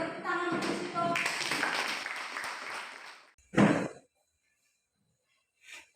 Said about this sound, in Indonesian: tepuk tangan untuk sitok